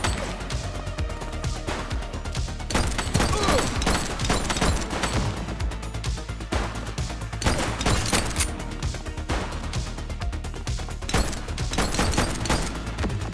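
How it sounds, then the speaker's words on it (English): Heavy, continuous gunfire with crashes and impacts from a police action scene in The Precinct video game, loud and dense throughout, with rapid volleys layered over a constant roar and no clear talk. "He's shooting!"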